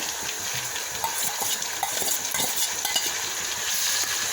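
Lengthwise-sliced tomatoes fry and get stirred in a pan for kuska, with a continuous close sizzle broken by repeated scraping and clinking strokes of a spoon against the metal.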